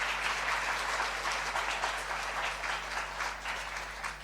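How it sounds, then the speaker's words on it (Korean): A church congregation applauding during a Sunday service, many hands clapping together in a steady, moderately loud burst with a low hum underneath. "뜨거운 박수로 한번 더 격려하겠습니다."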